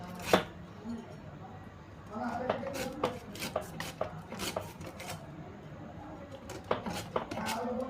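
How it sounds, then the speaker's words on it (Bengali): A knife slices a firm, hard mango into very thin pieces for Kashmiri mango pickle, giving a quick run of crisp, close cutting taps against a board with short uneven pauses. "এখন আমি এটাকে খুব পাতলা পাতলা করে কেটে নেব"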